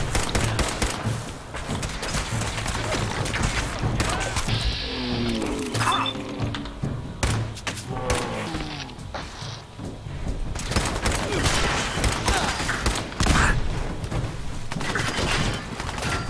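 Gunfire from Gunner raiders in the video game Fallout 4: dense, continuous bursts of shots and impacts run through the whole stretch, loud and busy with game noise and no clear speech.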